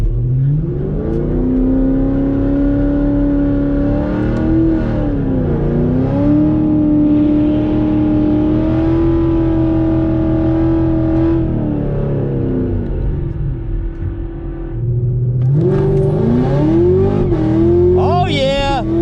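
A base 2020 Coyote V8 with a 10R80 automatic on an E85-only tune launches down a dragstrip, its loud engine note climbing through the gears with brief dips at each shift and a final high-pitched rev.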